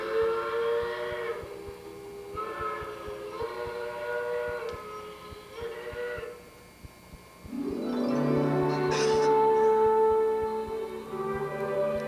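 Steam locomotive whistle: several long blasts of a harmonic chime sound in a repeated pattern, followed by a louder, fuller wail, with rhythmic mechanical chuffing beneath.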